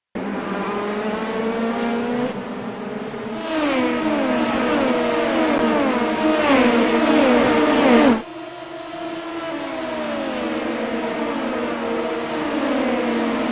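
An LMP2 prototype race car in iRacing at Watkins Glen screams through a lap, its engine loud and sustained as it climbs through the gears. Brief shift breaks interrupt the close, rising whine.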